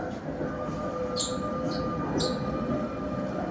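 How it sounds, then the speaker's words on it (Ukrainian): A train in Prague rumbles past steadily, with a low continuous roar and a few brief high metallic squeals from the wheels. "І поїзд."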